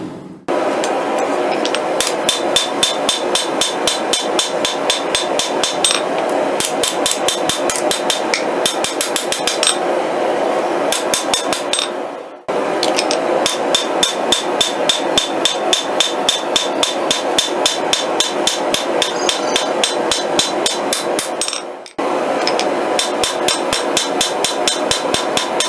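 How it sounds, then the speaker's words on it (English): Steady, rhythmic hammer blows ring out as a hidden tang Bowie knife is rough-forged, loud metallic strikes in long runs broken by two brief pauses, with no talk. "And there's the rough forging of our Bowie knife."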